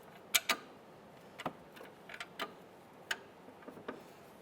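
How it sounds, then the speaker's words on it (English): A ratcheting 19mm socket wrench snugging a front strut bolt on a 2011-2016 Hyundai Elantra, producing faint, irregular clicks in quick pairs and singles against a quiet garage background. "On the front side, we're going to use a 19mm socket. We're just going to snug this up."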